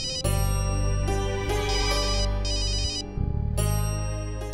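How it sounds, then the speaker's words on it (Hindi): A mobile phone ringtone plays loud and close, a bright repeating electronic melody with several phrases and a brief break near the end, with no talk over it. "वो मेरे बॉस का फोन है।"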